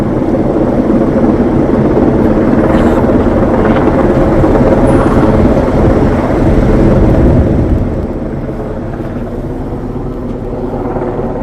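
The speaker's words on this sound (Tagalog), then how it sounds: "Yung helicopter, naka-steady lang siya." A helicopter holds a steady hover overhead above a street where police have stopped traffic, its loud, continuous rotor throb and engine roar filling the scene without pause, easing slightly toward the end.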